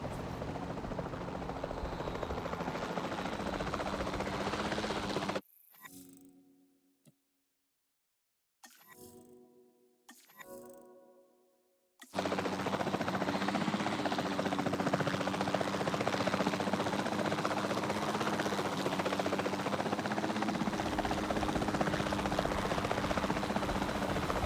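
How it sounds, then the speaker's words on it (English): A capture team helicopter in Jurassic World Evolution 2 drones with a steady loud rotor hum, cutting out briefly in a few gaps midway before returning at full strength. "Then, the sensible thing is to take a capture team helicopter."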